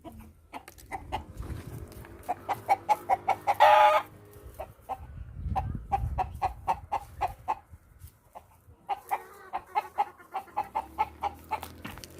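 A sick rooster makes short, hiccup-like clucks in a steady rhythm, pausing once and then resuming the series, heard nearby.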